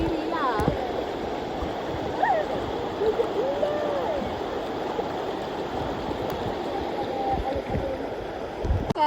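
Steady rushing water of the deep, fast-flowing Kenerong river near Dabong flows continuously nearby, with small splashes and gurgles throughout and brief faint voices in the background.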